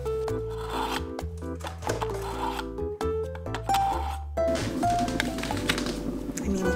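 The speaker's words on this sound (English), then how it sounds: "I am just gonna sharpen my IKEA knives with my IKEA sharpener." IKEA knives drawn through an IKEA knife sharpener give quick, repeated rasping scrapes, close and moderately loud, over tonal background music.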